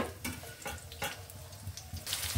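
Chopped onion fries in a pan of hot oil with spices, making a soft, steady sizzle broken by a few sharp stirring scrapes and clatters.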